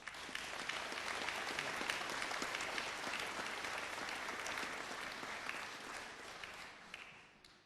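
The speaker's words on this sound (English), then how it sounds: "give yourselves a round of applause" A graduation ceremony audience gives sustained, even applause, a dense wash of clapping that holds steady for several seconds and then starts to fade, with no voices on top.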